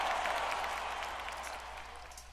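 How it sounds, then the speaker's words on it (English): A stadium crowd at an American football game, Cleveland at Kansas City, roars and applauds in a broad distant wash that slowly fades over a couple of seconds. "Crowd cheers that."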